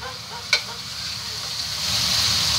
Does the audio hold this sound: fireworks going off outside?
no